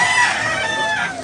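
A brown grey rooster with yellow legs, about a year old, crows once, loud and close. The call is drawn out with a falling tail, with no talk over it.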